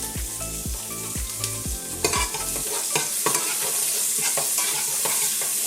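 Onions fry in oil with cumin, a loud close sizzle with repeated rhythmic scraping and clanking of a spoon stirring against the pan, the stirring settling into steadier crackling.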